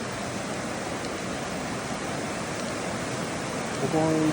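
A clear mountain river runs through a quiet valley gorge near Jozankei hot spring in Sapporo, giving a steady, even rush of flowing water from start to end with no talk.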